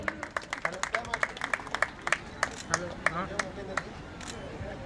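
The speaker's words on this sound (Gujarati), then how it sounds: "જોરદાર તાળીઓ" Applause and clapping from a crowd at a Gujarati community mass wedding ceremony honouring donors, with dense irregular claps, moderately loud, and voices audible beneath.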